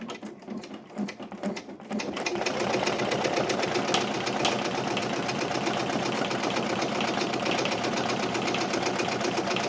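An embroidery machine stitches a 3D puff design onto a hat at a slowed speed, a steady rapid mechanical needle chatter that starts after a quieter moment and continues close and even to the end.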